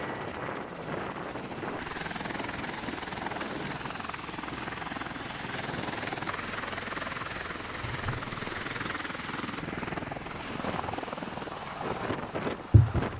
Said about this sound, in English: waiting for the aircraft to fly off